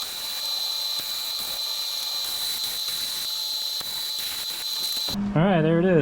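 MIG welding with .030 solid wire on the tube front of a turbo VH45 Nissan S13 drift car: a steady, loud crackling hiss with a sharp high whine, running continuously for about five seconds before cutting off into a brief different noise.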